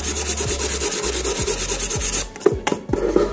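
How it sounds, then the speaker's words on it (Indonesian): Steady rhythmic rubbing of sandpaper on a leaking metal cooking pot, back-and-forth strokes at a brisk even pace, close and loud, then a few scraping knocks as the pace breaks. "Nah kita amplas terlebih dahulu ya."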